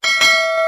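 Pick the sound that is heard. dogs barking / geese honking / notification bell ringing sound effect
notification bell ringing sound effect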